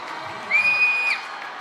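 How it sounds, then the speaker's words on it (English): A crowd at a varsity high school football game cheers and screams in a steady distant roar, swelling briefly as a shrill whistle-like tone rises over it, with no clear talk. "Everyone's screaming."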